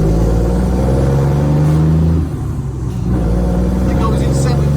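A Foden truck with a Cummins engine accelerates with a loud, close low drone. The engine drops briefly in the middle as the gear changes, then pulls again, while people talk over it.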